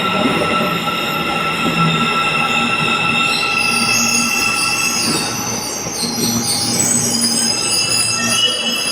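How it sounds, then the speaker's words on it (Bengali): A Soviet-built metro train pulls into a station in Kazakhstan, with a loud, continuous rumble of wheels on rail and drawn-out metallic squealing throughout, and no voices. "আর একটা ওই পাশে মেট্রো আসছে,"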